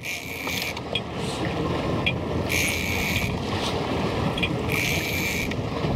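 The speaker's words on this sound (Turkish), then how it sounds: "Direkt makinenin gücüyle sarıyorum." A motorized electric fishing reel whirs and ratchets in repeated winding bursts, reeling in a big fish from a boat, over steady wind and water noise, close by.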